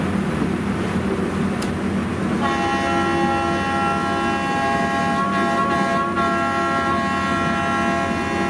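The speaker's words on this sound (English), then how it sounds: "sounded the horn to let us know that we've reached our top speed" The Mount Washington Cog Railway train horn sounds a long, steady tone at top speed over the constant rumble and clatter of the moving train climbing the mountain, with a brief sharp click early on.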